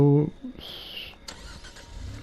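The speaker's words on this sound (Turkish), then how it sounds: "Bu araba çalıştırdı yine." A car engine cranks and starts in the horror game Friday the 13th, a short rising mechanical whir and rumble that settles into a steady idle, with a player's voice just before it.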